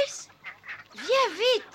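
Farm geese honking loudly near at hand, a few rising-and-falling calls that come quickly one after another, with a brief murmur of voices before them.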